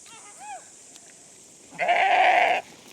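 A flock of sheep herded along a path gives short bleats, a few brief calls followed by a longer, louder bleat close by, with faint talk in the background.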